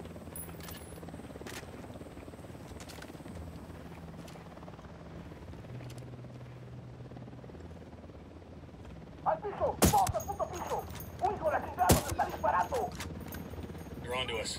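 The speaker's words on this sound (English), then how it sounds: "We got a chopper coming in." A helicopter in Ghost Recon Wildlands whirs steadily in the background while voices talk over it, then sharp gunshots and rattling bursts break in near the end.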